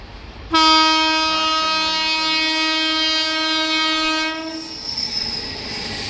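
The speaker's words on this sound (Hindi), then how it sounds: "तो रेलवे पे इतना आवाज़ मिलेगा कि मेरा क्या सुनाई देगा।" A loud, sustained horn from the Vaishali Darbhanga to New Delhi Express blares close by for several seconds, then fades as the rumble of the passing train continues.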